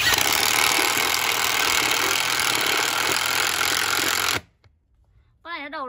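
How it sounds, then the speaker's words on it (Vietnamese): Hukan X1 cordless impact driver with a hammer head driving a 5 cm screw into a 6 cm wooden box, a loud continuous rattling whir that cuts off abruptly, followed by brief quiet and a voice starting to talk. "Đây là con vít dài 5 phân. Trực tiếp em bắn lên trên cái hộp gỗ này luôn."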